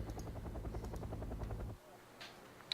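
Helicopter rotor noise in the wartime strategy game Wargame: AirLand Battle, a steady loud chopping drone that cuts off abruptly partway through, followed by quieter game sounds.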